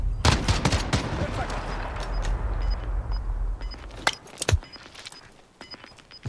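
Video game gunfire in a shooter, rapid bursts of loud sharp shots in the opening seconds, then scattered single cracks later, with a small electronic beep repeating in the background.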